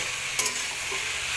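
Water lily stems and green chilies stir-fry dry in a pan with a short, steady sizzle and a quick scrape of stirring.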